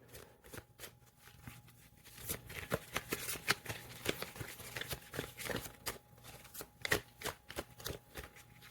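A deck of animal oracle cards gets shuffled by hand in a quiet room, giving a soft, riffling patter of card edges. The sound comes in repeated close bursts over several seconds, with nothing but the cards heard.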